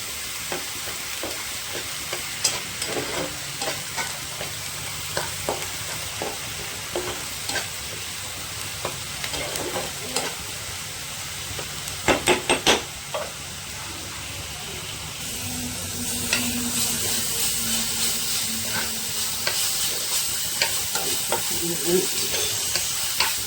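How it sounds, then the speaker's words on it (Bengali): Onions fry and brown in a pan for a fish roe sour dish, with a constant sizzling hiss broken by repeated sharp spatula scrapes and taps, a short flurry of clatter midway and louder sizzling later. "পেঁয়াজটা হালকা লাল হতে থাকে"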